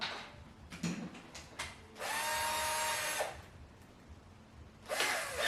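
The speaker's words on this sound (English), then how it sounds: "drill them down from the top" A power drill whirs through wood in a sustained burst, then stops; some knocks and clicks follow before the drill starts up again briefly.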